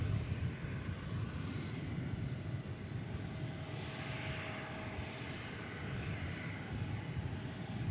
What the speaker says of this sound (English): 777-300ER arriving from Dubai